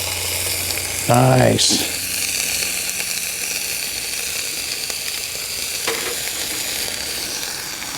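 Food frying in a hot pan over a Fire Maple Sunflower stove gives a steady, close sizzle throughout, with a brief clatter near the start and a short word spoken over it.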